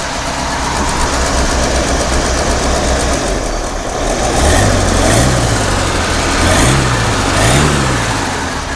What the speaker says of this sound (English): listen to this engine. Oh, it's in gear. It's running right now.